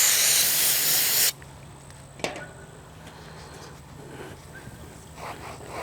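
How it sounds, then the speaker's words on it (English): A loud, steady aerosol spray of brake cleaner onto a rag hisses for about a second, then stops abruptly, leaving a quiet room with a single faint knock. "I'm gonna spray it on the rag and then just wipe the tire."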